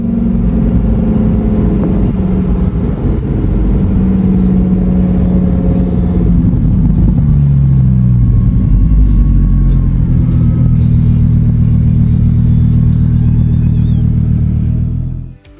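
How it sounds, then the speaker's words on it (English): A Lamborghini Temerario's naturally aspirated V10 revs loudly and continuously, its deep engine note rising and falling through several sweeps before cutting off abruptly at the end, with no voices. "the V10 naturally aspirated engine, which produces a thrilling sound"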